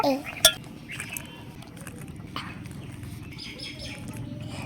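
Peas mash spooned into a bowl, a sharp clink of spoon on dish followed by softer scraping and dabs, with birds chirping in the background.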